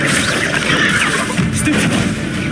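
Incendio fire spell being cast in a Harry Potter-style video game, a dense, continuous roaring blast with booming, crackling bursts that stay loud and steady throughout.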